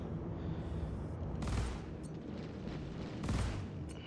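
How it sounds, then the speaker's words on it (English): Turret guns firing in the Star Citizen space game, two heavy booming bursts over a constant rumbling engine drone, loud and close. "Watch out for those turret guns."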